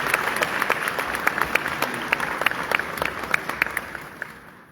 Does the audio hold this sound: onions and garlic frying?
no